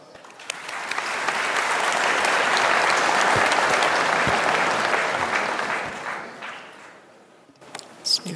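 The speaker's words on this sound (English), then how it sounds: "Let's welcome distinguished Madam Sri Hudiastuti with a warm round of applause." Warm audience applause welcoming a speaker at a seminar, swelling into a full, dense round of clapping that fades after several seconds, followed by a few scattered claps and rustling.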